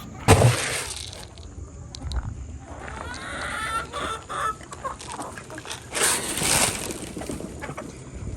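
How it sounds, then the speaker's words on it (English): Chickens on a farm cluck and squawk near the recorder, with loud scattered bursts and a steady background of farmyard bustle. "this is my red chicken that I was telling you all about"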